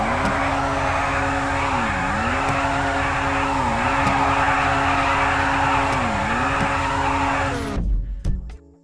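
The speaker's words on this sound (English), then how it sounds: "I got to warm up my tires and let's do this." Race car engine in GTA 5 revving steadily at high pitch with repeated dips and climbs during tire warm-up before a race, loud and continuous, then cutting off abruptly near the end.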